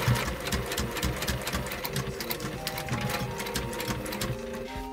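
A sewing machine stitches fabric while a day bag is remade from old boro cloth, giving a fast, even mechanical whir-and-clatter of needle strokes, close and continuous, slowing briefly near the end.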